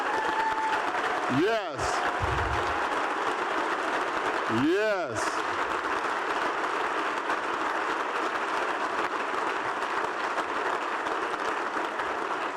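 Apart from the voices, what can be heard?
applause for past Shattuck Award winners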